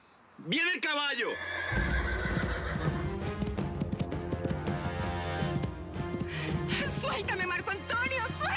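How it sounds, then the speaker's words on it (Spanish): A horse whinnies loudly, then hooves clip-clop in a steady trotting rhythm close by on a television drama set, with a second neigh near the end and voices occasionally underneath. "¡Viene el caballo!"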